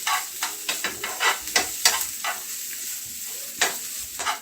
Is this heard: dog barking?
no